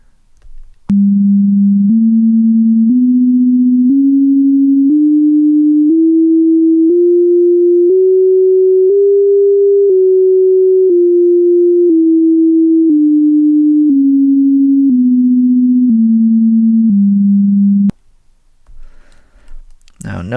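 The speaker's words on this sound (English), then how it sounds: "And here is what the harmonics in that octave sound like." Sine-like harmonic tones spanning one octave of the harmonic series, stepping upward one after another and then back down in a smooth, evenly paced ladder of pure pitches, loud and alone for about seventeen seconds.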